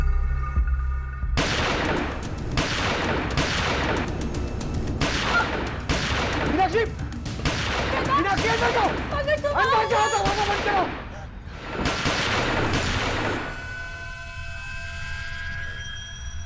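Bursts of gunfire crack out in a series of loud shots with short gaps, a rapid exchange that echoes before trailing into a lingering hum.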